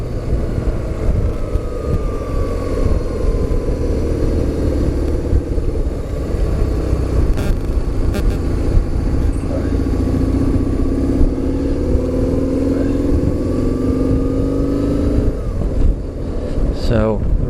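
Steady engine drone of a BMW R850R motorcycle while riding, a continuous loud hum with wind rush and shifting pitch as it speeds up and slows, with a brief tone rise near the end.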